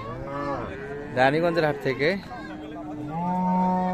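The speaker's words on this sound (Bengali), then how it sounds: "বাচ্চা সব ফ্রিজিয়ান জাতের গাভী গরুগুলি কেমন ধরে বেচা কিনা আছে" Friesian cows moo loudly in long, low calls, several overlapping, with a person speaking briefly in the middle amid cattle market bustle at Raniganj market, Dinajpur, Bangladesh.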